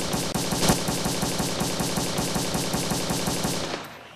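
A magnum revolver fires in the Blade and Sorcery Nomad VR game, shooting as a fast, even stream of about twenty loud, close shots before stopping abruptly.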